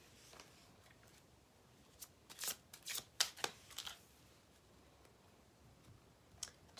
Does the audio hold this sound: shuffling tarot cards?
yes